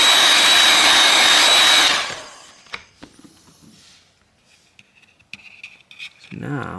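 A heat gun blows loudly and close for about two seconds while softening adhesive on a BLU G64 phone during a teardown, then cuts off, leaving faint handling clicks and taps.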